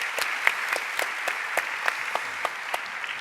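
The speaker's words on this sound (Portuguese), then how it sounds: "Javier, coloco-te uma salva de palmas também pela tua resposta." An audience at a literary talk gives a round of applause, a light scattered patter of many hands with a few distinct louder claps standing out, no voices.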